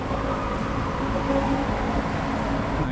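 Steady rumbling rail noise from a train passing on an elevated line near Lak Si, Bangkok, moderately distant, with a faint tonal whine over a continuous low roar.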